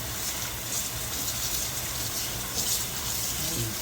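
Water rushes and gurgles steadily out of a kitchen sink after the plug is pulled, having just been used to wash mustard and turnip greens, a close, continuous draining flow with no talking.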